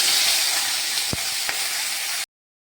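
Radish greens frying in hot oil with garlic, nigella seeds and dried chili: a loud, steady sizzle with a couple of soft stirring knocks, cut off abruptly into silence.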